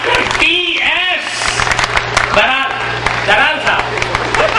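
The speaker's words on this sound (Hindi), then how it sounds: "बस आप एक बार जोरदार तालियां बजाकर" Audience applause welcoming a doctor as a speaker, a moderate crowd clapping continuously while a loud voice talks over it.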